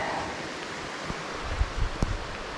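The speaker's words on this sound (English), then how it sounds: "A little stream with the little waterfalls." Steady broadband rush of flowing water, like a small stream trickling over little falls, with a few soft splashes and knocks.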